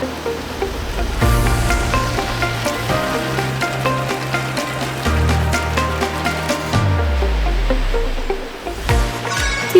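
Continuous crackling sizzle of chicken-drumstick-shaped snacks deep-frying in hot oil in a Korean snack factory, steady and loud throughout, with soft tones humming underneath.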